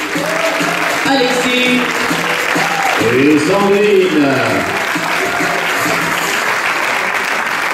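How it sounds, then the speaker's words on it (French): An audience at an improv theatre festival match claps loudly and continuously while a host speaks over the applause in French, with shouts and cheering surging in the middle. "On peut applaudir très fort."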